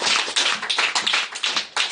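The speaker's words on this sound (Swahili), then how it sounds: "Tupigie Bwana makofi makubwa." A church congregation at a Bible study and prayer gathering claps together, giving a quick run of strong, closely spaced claps for a couple of seconds.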